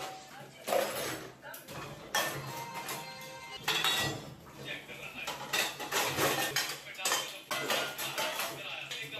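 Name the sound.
washing soaped dishes and utensils in kitchen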